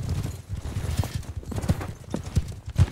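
A horse gallops in the medieval combat game Mount & Blade II: Bannerlord, its hooves beating in a quick, uneven clip-clop rhythm that rises louder near the end while someone talks over it.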